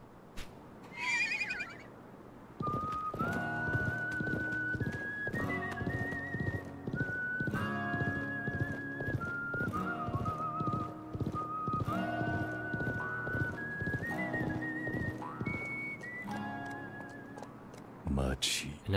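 A horse whinnies, then hooves clip-clop rhythmically under a whistled Western tune in the video game Live A Live, during its Wild West chapter.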